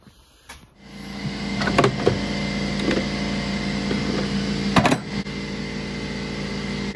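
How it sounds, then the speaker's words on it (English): A small air compressor runs nearby during brake work on a Big Tex trailer, a steady droning hum that starts after a second and holds, with a few scattered clicks and knocks on top. "try to ignore that sound from the compressor"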